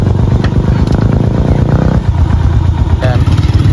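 A motorcycle engine idles close by with a steady, rough low rumble and some mechanical clatter, while a person speaks over it.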